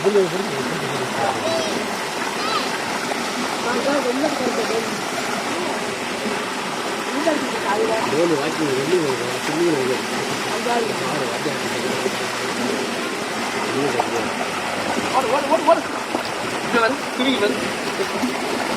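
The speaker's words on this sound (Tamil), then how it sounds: "நல்ல நீச்சல் அடிக்குது" A dog swims through water, steady splashing and churning rising over a flowing-water background, with someone talking and praising it throughout.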